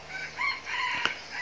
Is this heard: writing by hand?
no